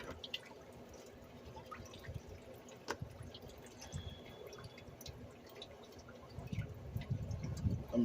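Coolant water drains from the radiator of a 2003-2005 Lincoln Aviator with the 4.6L V8, a faint steady trickle with scattered drips close by, swelling into a heavier flow toward the end.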